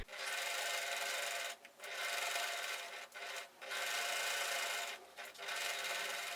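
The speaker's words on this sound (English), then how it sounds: "Enjoy this last clip of me sewing." A sewing machine stitches curtain fabric in a close, steady whirring run, with several short pauses where the motor stops briefly before starting again.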